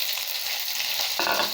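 Okra frying in hot oil with curry leaves, a loud, dense crackling sizzle that swells abruptly in the final moments as more goes into the pan.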